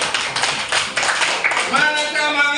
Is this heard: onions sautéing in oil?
no